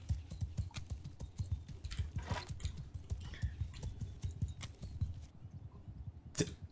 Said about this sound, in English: Someone on horses.